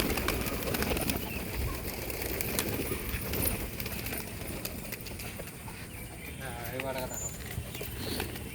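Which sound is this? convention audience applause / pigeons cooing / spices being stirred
pigeons cooing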